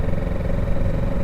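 A Kawasaki Ninja 650 motorcycle gives a loud, steady exhaust drone at close range, a brief continuous engine rumble with no talk.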